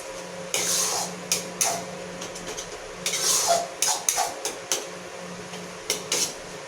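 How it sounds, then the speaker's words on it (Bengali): A spatula scrapes and knocks against a pan while masala for egg curry is stirred, giving a run of irregular clattering strokes, fairly close, with no talking. "এবার নাড়তে থাকবো যাতে মশলাটা একদম কষে যায়।"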